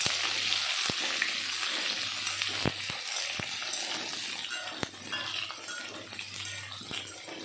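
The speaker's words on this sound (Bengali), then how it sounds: "তেল গরম হয়ে গেল, দিয়ে দিলাম আলু, বাঁধাকপি আর গাজর। একটু সময় ভেজে নেব।" Potatoes, cabbage and carrots fry in hot oil in a kadai, giving a steady, close hiss with occasional sharp clicks and taps and no talking.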